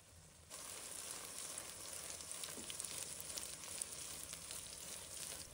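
Cubes of tofu pan-frying in hot oil give off a steady, close, fairly loud sizzle with faint crackles, holding even from start to finish without any voices.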